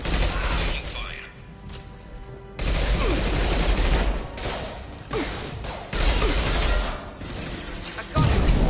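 Sustained gunfire from a Mass Effect firefight, dense bursts of shots and booms rolling in several loud waves with brief lulls, under the hum of battle.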